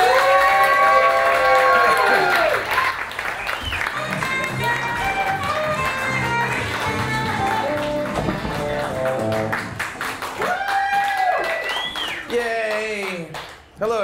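A comedy club crowd at The Velveeta Room in Austin, Texas roars and cheers loudly and continuously, mixed with shouting voices and tonal, music-like sounds, before dropping off sharply near the end.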